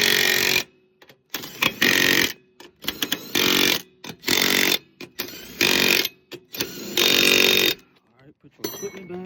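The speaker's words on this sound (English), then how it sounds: "you're gonna use your impact gun, push the button here so it can turn this way to tighten them" An impact gun tightening the wheel bolts on a 2014 Honda Pilot, giving loud repeated rattling bursts of about a second each with short pauses between them.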